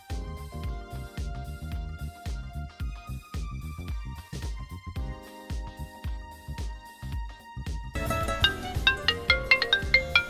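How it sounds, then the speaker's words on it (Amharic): A phone rings in a repeating, tinkling melodic ringtone that plays on and grows brighter and busier toward the end, moderately loud, with no talking. "ስልክ እየጠራ"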